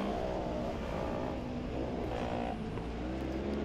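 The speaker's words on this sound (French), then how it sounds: "Meilleure traction du dernier virage pour Cartel qui prend quelques mètres sur Genten qui revient au freinage." Rallycross cars at a Belgian race roar through the last corner and brake hard, a steady, dense engine drone with shifting pitch at moderate distance.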